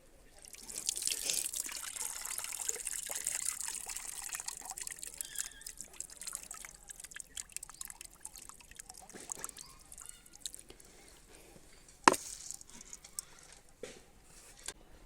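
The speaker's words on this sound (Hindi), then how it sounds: "अब दोबारा मैं पानी में डाल करके इसको धुलूँगी" Wheat grains are washed in water in a small vessel at a village home. Soft close sloshing and pattering water is heard, with occasional drips and a sharp clink of grain or vessel near the end, and no talking.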